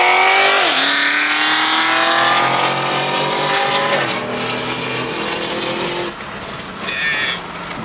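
Supercharged car engine revving hard while drifting, rising gear-by-gear whine and roar with tire squeal, loud and close, easing off near the end as the car passes.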